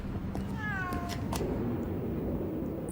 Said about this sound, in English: Take the cat with you